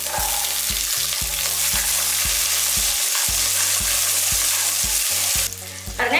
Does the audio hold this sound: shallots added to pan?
yes